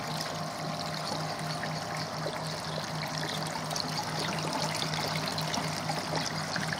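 Water from a koi pond filter system pours steadily back into the pond, a continuous close trickling stream with no talk over it.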